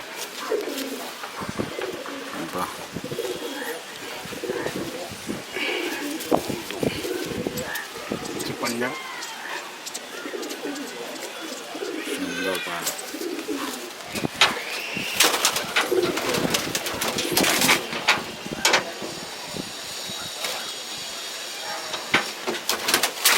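Female pigeons coo repeatedly in a loft, soft rolling calls overlapping close by, with someone talking over them and scattered rustles and clatters throughout.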